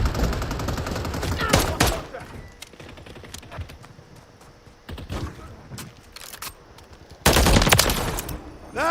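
Rapid video-game gunfire crackles in several loud bursts of automatic fire, separated by quieter stretches of scattered shots and ambient battle noise.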